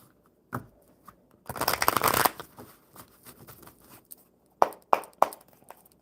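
Cards are riffled in a quick, crisp burst, followed by a few soft taps and shuffles of the deck, close up.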